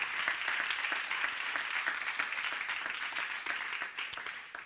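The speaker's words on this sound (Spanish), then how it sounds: "¿Les damos un aplauso?" An audience at an awards ceremony applauds loudly and steadily, a dense, even roar of clapping hands that fades slightly toward the end.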